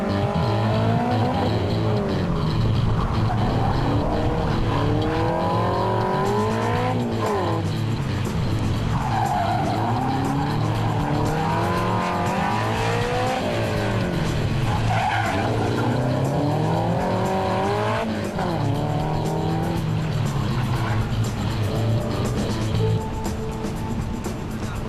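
A 1976 Holden Torana rally car slides on gravel, its engine revving loud and close in rising and falling sweeps as it drifts, with tyre skids and crunching throughout.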